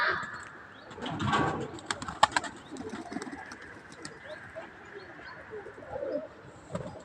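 Soft pigeon cooing in a low, repeated murmur, fairly faint, with a few chirps and light rustling around it.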